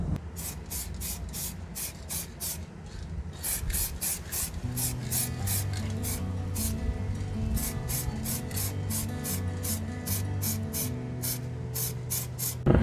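A gauntlet glove is spray painted black in steady close bursts of hissing spray with short gaps between them, while a low musical tone hums underneath.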